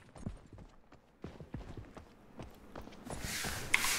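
In a video game, a horse's hooves clip-clop in an uneven rhythm of soft thuds, fairly quiet, before a burst of hissing noise takes over near the end.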